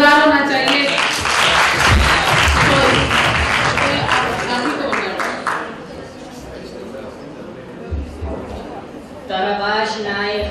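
An audience at an inter-school poetry recitation competition bursts into loud clapping that fades after a few seconds, followed by a quieter stretch where a voice speaks and sings.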